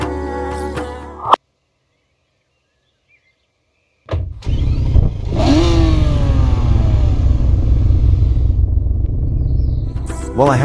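Engine note from a 2017 Audi R8 V10 Plus in the Roblox game Realistic Car Driving: a short burst of sound, then silence, then the engine starts and climbs in repeated rising revs into a loud, sustained roar.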